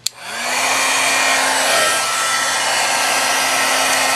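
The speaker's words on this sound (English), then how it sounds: "so this is our heat tool" A heat tool clicks on and blows a steady, loud rush of hot air with a constant motor hum, running without pause.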